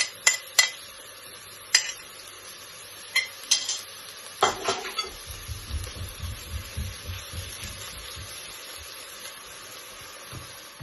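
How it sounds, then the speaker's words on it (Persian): Garlic stirred into softened onions in a pan for a traditional Persian herb and chickpea ash, with sharp utensil scrapes and clatter early on, then a steady low sizzle and repeated stirring pulses, close and moderately loud. "من الان سیری که داریم و یه مقدارش رو اضافه میکنم و تفت میدم."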